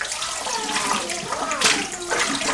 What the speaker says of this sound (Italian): Sciacquiamo con acqua tiepidina tendente al fresco